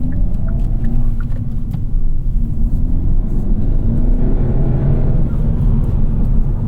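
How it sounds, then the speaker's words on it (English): Inside a 2021 Hyundai Elantra N Line, the engine gives a loud, steady low rumble as the car pulls on the road, with constant road noise and no sharp changes. "This motor torques up."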